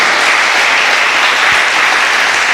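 Loud, dense applause from a large church congregation, steady and sustained throughout with no pauses.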